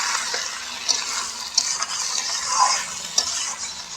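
Pangas fish seasoned with salt and a little turmeric fries lightly in a pan, making a gentle hissing sizzle with a few sharp clicks of a utensil against the pan.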